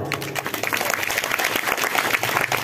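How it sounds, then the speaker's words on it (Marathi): An audience claps together at a kirtan, a devotional singing gathering led by a child performer; dense, continuous applause fills the whole stretch at steady loudness. "सिस्टीम करता पण टाळ्या वाजवा."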